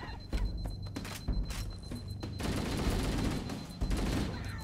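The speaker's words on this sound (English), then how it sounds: "shooting people in the back as they run away" Bursts of automatic gunfire in Halo: Combat Evolved, rapid close shots in short volleys followed by a denser sustained stretch of fire, fairly quiet overall with game ambience beneath.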